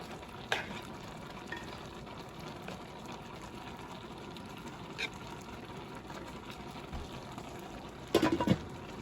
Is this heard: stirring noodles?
yes